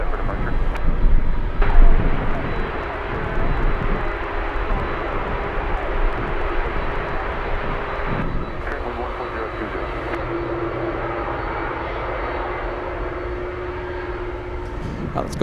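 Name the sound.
Boeing 747 aircraft at Anchorage airport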